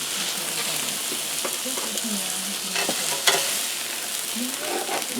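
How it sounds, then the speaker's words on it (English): Steak coated in a chili coffee rub frying in a pan, a steady, dense sizzle with occasional small pops and scraping, and a voice speaking faintly underneath at times. "One of them was really fat, the one that's back there, so I'm leaving it there to kind of cook through a little bit more."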